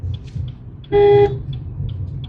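One short, loud honk from a car horn, under a second long, against low engine and road noise with faint ticking.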